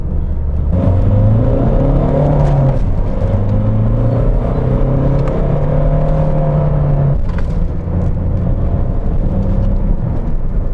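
A Fiat Bravo 1.9 JTD diesel engine revs high and holds, a loud continuous close drone with rising and falling pitch, heard from inside the car with no talking.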